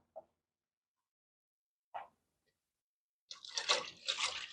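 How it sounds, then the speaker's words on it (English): Distilled water is poured into a jar of homemade apple cider vinegar: two small drips, then a steady splashing pour lasting about a second, close and moderately quiet. "let's pour this in"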